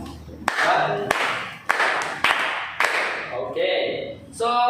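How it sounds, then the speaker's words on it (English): A classroom of students clapping together five times in sharp unison bursts, with a teacher's voice and children's chatter around the claps. "Give yourselves 5 claps"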